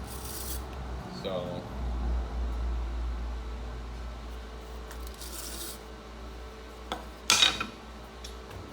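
A new brush rubs across aluminum to clean it before welding, giving a few soft scratchy passes at moderate distance, with a brief sharper scrape near the end and a short spoken word.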